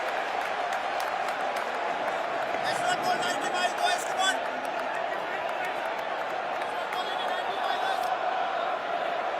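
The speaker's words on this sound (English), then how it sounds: "Not a full crowd by any means," Crowd at a cricket stadium during the final overs of an England versus India match, a steady roar of noise with bursts of cheering and clapping, heard under a commentator's talk.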